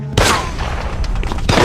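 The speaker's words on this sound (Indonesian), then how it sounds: "Sebuah tembakan terjadi tapi tak mengenai siapapun" A film gunshot rings out as one sharp, loud crack followed by a short echoing tail, and a second blast comes at the very end.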